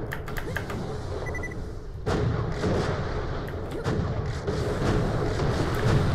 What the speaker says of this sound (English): I can fire some flaming pumpkins back at them